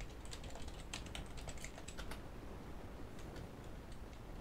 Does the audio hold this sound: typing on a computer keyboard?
yes